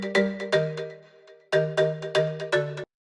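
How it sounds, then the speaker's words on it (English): High marimba panned hard left, a short pattern of bright struck mallet notes in two quick phrases separated by a brief gap, clean and alone. "If I turn it all the way to the left, you'll just hear that high marimba."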